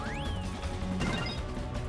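Something breaks apart in Kingdom Hearts 2 Final Mix, a brief crash and splintering burst over game music and effects, moderately loud.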